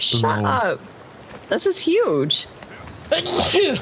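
A single sneeze from a player during online co-op play of Sons of the Forest, sharp and close, followed by a short burst of voices talking over it.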